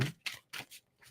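A tarot card deck being shuffled: three or four quick, papery riffling bursts separated by short gaps, close and fairly quiet, with no talking.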